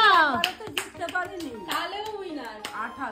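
A few sharp hand claps for a family contest winner ring out at home, mixed in with lively talk from adults and children.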